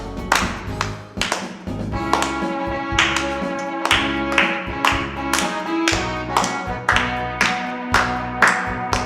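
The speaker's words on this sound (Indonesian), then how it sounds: "Tepuk tangan yuk." Children at a Sunday school session clap their hands in a steady, repeating rhythm, sharp claps landing roughly twice a second over a background of music or singing.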